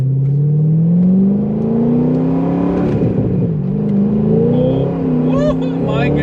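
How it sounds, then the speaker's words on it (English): A C6 Corvette Z06 engine revs and climbs steadily through clean manual gear shifts, its rising tone dropping briefly at each change, loud and close inside the car with talk over it. "Listen to those clean shifts."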